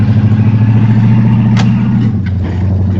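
A 1967 Pontiac Le Mans engine rumbling loud and close while cruising through a neighborhood, a steady low throbbing drone with a brief whoosh and a slight drop in pitch near the end.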